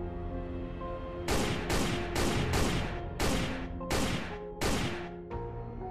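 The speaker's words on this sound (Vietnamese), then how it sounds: "Tiếng súng vang trời bất thình lình, Klaus gục xuống đất ngay tức khắc." Gunshots in a courtroom, about eight sharp, loud blasts fired in quick succession, each followed by a short echoing decay.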